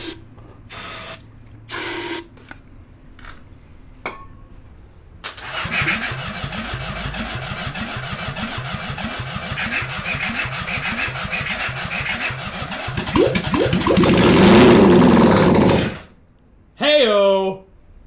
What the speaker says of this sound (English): I'll give her another squirt. And I guess I'll crack the throttle open